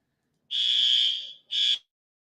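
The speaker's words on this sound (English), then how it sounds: "The fire alarm just went off in here." An indoor fire alarm sounds in a room: a loud, piercing electronic tone held for about a second, a short gap, then a shorter second blast, with silence around it.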